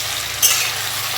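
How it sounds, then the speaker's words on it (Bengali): Shrimp frying in hot oil in a pan, a steady bright sizzle throughout with a short stirring scrape near the start, loud and close. "এবার সুন্দর করে চিংড়ি মাছগুলো ভেজে নেব।"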